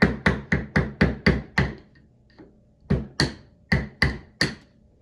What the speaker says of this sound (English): And as you tap, just slowly push the screwdriver away from yourself.